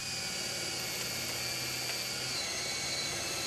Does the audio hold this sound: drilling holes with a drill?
yes